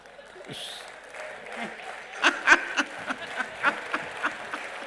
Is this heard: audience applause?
yes